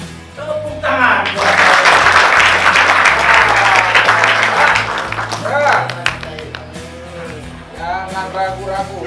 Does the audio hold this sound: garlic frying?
no